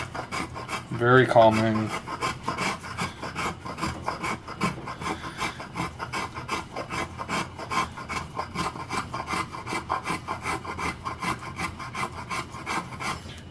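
A carving tool smooths gouges from a wooden Telecaster guitar body carve in steady, rhythmic back-and-forth rasping strokes, heard close up. A voice speaks briefly near the start.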